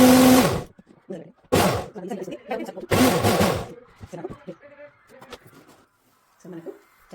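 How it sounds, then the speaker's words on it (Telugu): A mixer grinder blends a raw spinach smoothie in three short, loud bursts, with a voice talking in the pauses between them. "సో ఇప్పుడు దీన్ని నేను మిక్సీకి వేస్తున్నాను."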